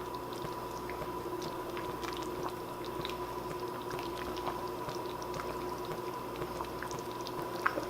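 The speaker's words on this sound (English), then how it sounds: "Now we're just going to boil it, stir it a little and let it thicken up just a little here." Chicken banana stew thickened with cornstarch slurry boils in a pot, a quiet steady bubbling with frequent small pops and soft liquid squishes from stirring, no talking.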